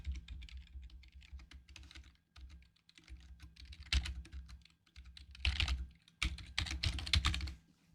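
Rapid clicking of keys on a computer keyboard, steady typing with brief pauses and a few louder bursts, close by and quiet.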